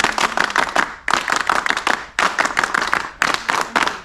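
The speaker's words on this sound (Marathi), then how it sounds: "त्यासाठी आपण शाळेच्या पद्धतीने त्यांचा सत्कार करूया टाळ्या वाजवून" A group of school friends claps in unison to honour their teachers, loud close rhythmic hand claps in four quick bursts with brief gaps between them.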